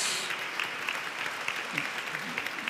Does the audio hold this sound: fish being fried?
no